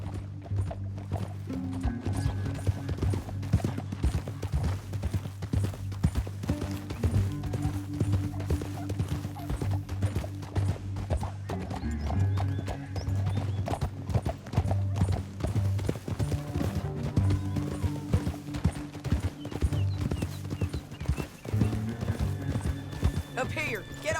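Horses gallop in Red Dead Redemption 2, a steady drumming of hooves that runs throughout under a low rumbling bed, with characters talking over it.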